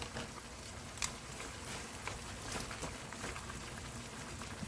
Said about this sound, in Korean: 이렇게 해서 감자하고 당근이 익을 동안 졸여주세요